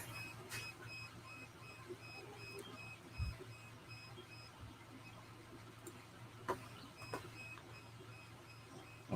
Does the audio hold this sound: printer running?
yes